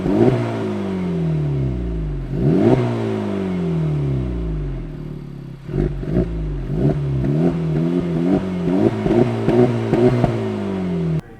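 Acura Integra Type S with triple-outlet exhaust revving repeatedly, loud and close, with rising and falling engine pitch, a couple of long sweeps followed by a string of quick blips.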